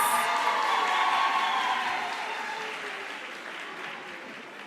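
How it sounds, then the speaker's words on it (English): A conference audience applauds steadily, a dense wash of clapping that starts full and slowly fades over several seconds, with no voices on top. "Let's give him a round of applause."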